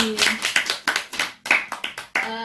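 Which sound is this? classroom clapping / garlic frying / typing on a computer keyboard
classroom clapping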